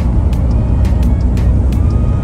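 Steady road traffic rumble on a hot day in London, with passing car noise and occasional brief higher swishes over a continuous low engine drone.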